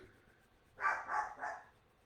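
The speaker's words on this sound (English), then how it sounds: "so that's what all the barking's about" Three quick barks from a dog, moderately close, in a short burst over quiet background.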